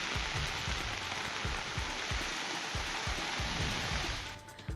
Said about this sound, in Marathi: अंबरनाथमध्ये पावसानं जोरदार हजेरी लावली